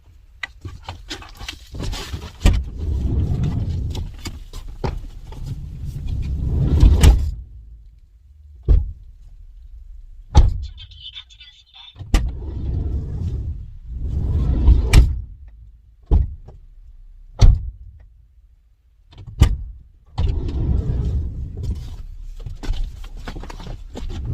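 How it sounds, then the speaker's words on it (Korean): The first- and second-row doors of a car are opened and shut one after another, giving a series of sharp thuds and latch clicks separated by quiet gaps, with rustling and handling noise between the closings. "근데 일열은 어, 충격도 덜하고 그리고 문을 닫을 때 소음도 적습니다."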